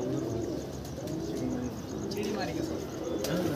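Pigeons from a flock of pigeons kept for flying practice coo close by in a steady low murmur, with some chirps and background voices mixed in throughout.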